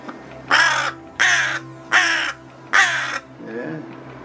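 A pet crow caws four times in steady rhythm, loud and close, then gives a softer, lower croak; each call is harsh and nasal.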